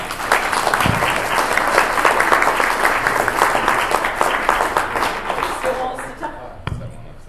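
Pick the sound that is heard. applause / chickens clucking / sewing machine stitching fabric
applause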